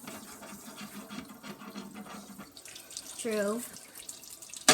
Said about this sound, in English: Next, I'm getting beans in our very dirty sink.